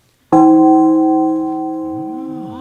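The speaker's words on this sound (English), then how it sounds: "That was only one chime." A single clock chime rings out with one bright struck tone that hangs and slowly decays, close and clear with nothing else heard.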